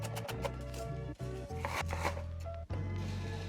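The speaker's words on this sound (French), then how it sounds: "Je vais couper quelques légumes là qui traînaient." A knife chops vegetables on a cutting board in a home kitchen, giving a few sparse, sharp cuts spaced over a few seconds, quiet beneath background music.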